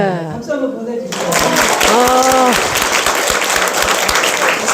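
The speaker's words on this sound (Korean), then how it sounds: "박수 한번 보내주세요" Audience applause at a book concert, a loud, sustained round of clapping that swells after a brief opening of speech and continues steadily, with some voices mixed in.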